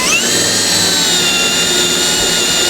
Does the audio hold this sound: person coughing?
no